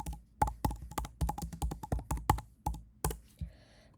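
Rapid typing on a computer keyboard while writing Python code, a steady run of about a dozen crisp, close keystrokes with uneven rhythm and no talking.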